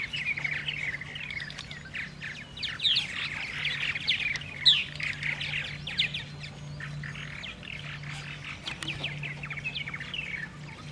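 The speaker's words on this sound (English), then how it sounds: "Females are building nests and the males are doing a little fighting." A Texas purple martin colony calls from a Troyer gourd rack on a spring morning, with females nest-building and males squabbling, producing a dense, continuous chorus of chirps, squawks and gurgling chatter at moderate distance, without talk.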